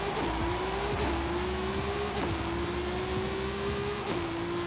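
Race car engine in Forza straining and bogging at launch under launch control with no turbo boost, a steady droning tone with periodic dips, loud and continuous with no talk.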